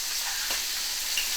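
Shrimp and minced garlic fry in clarified butter in a sauté pan, a dense, continuous sizzle heard close and fairly loud with no voices.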